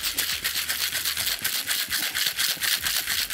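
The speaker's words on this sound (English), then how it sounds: "we're just gonna do a skosh of ice into our tin and whip shake it." A small scoop of crushed pebble ice is whip shaken in a metal cocktail tin while making a mocktail, giving a fast, steady rattle of rapid bright shakes close to the microphone.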